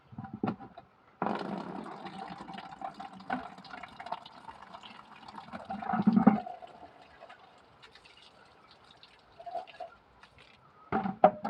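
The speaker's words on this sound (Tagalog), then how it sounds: "maglalagay na ako ng panligo kong tubig" Water splashes and pours while it is collected for a bath, in uneven bursts of running and sloshing liquid with small clunks, fairly close and soft.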